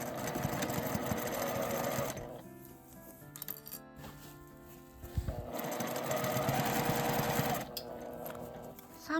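A sewing machine stitching an insulated drawstring lunch bag, running in two steady fast bursts with a quiet pause between them and a clink in the gap, close and clear.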